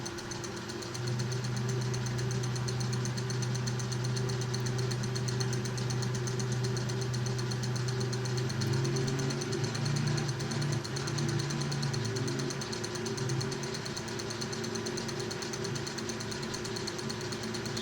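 A metal lathe runs steadily at about 700 RPM while machining a cutting tool for a four-way tool post, a constant droning hum with a faint rhythmic cutting texture throughout.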